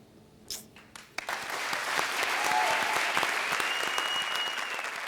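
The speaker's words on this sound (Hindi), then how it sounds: "तो सबसे पहले हमारे आज के सुपरस्टार किशोर के लिए जोरदार तालियां।" A studio audience on a televised talent show breaks into applause after a few scattered sharp knocks, then settles into a full, steady roar of clapping for the remaining seconds.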